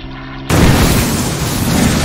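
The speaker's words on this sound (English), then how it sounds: "You use an orbital cannon on a Spitfire!" An orbital cannon blast strikes a Spitfire plane in a video game, a sudden loud booming explosion that cuts in after a brief quiet moment and rumbles on as a sustained roar.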